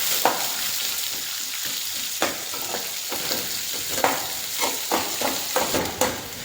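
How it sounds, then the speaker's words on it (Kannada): Chopped onions fry in a pan for beetroot palya, a steady loud sizzle broken by repeated scraping stirs and clicks of a spatula against the pan, close up. "ಮತ್ತು ಈರುಳ್ಳಿಯನ್ನು ಹಾಕಿ ಸ್ವಲ್ಪ ಹೊತ್ತು ಫ್ರೈ ಮಾಡಬೇಕು."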